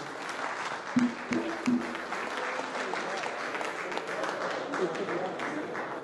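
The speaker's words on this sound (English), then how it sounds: "Give the EU advisor a big applause." Audience applause at a fisheries science programme launch in Liberia, a steady wash of clapping from a gathered crowd, with a few louder thumps near the start and murmuring voices underneath.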